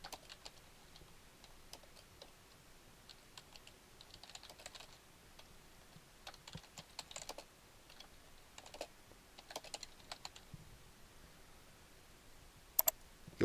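Quiet, close typing on a computer keyboard for a comment reply, irregular bursts of soft key clicks with brief pauses and a couple of sharper taps near the end.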